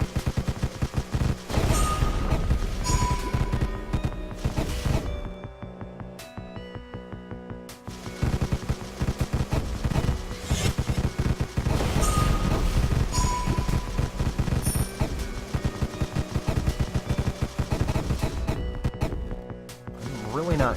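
Skulls being shot in the video game Deathstate: dense, rapid bursts of gunfire and impacts, loud and nearly continuous over game music and effects, with a short lull partway through.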